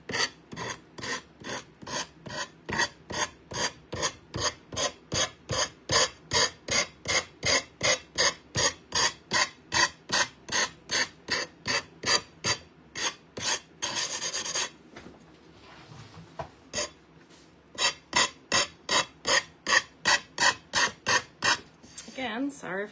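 A decoupage project sanded by hand gives rapid, even raspy strokes in a steady rhythm, close and loud, with a short pause partway through.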